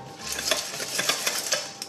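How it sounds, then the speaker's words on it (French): A few cockles cook in a saucepan, giving off a steady soft hiss with bright metallic clinks and scrapes of the pan and utensils, close and fairly quiet, with no voices. "Il la découpe en brunoise et cuit quelques coques dans une casserole. Alors, on entend, ça chante."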